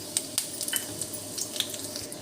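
Quiet crackling and popping over a low sizzle, scattered sharp pops of mustard seeds and dried red chillies spattering in hot oil for chutney tempering, with no talking.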